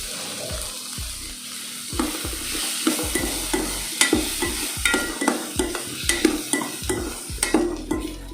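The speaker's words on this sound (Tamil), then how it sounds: "ஒரு 2 செகண்ட் இது வந்து வதங்கட்டும்." Chopped star gooseberries are sautéed in a pan, a steady sizzle under repeated rhythmic scrapes and clanks of a spoon stirring close by.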